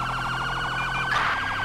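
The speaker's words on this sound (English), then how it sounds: "We can actually do dual siren too." A police siren in GTA 5 yelps in a fast, repeating up-and-down warble, loud and steady, with a brief burst of extra noise near the end.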